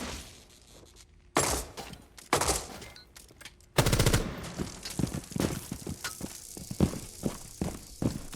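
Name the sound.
R4C rifle gunfire in a video game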